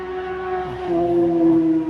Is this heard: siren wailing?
yes